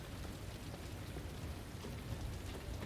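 Steady rain pours in Resident Evil 2, a dense, even hiss with low rumbling body that never lets up, heard alone with no voices.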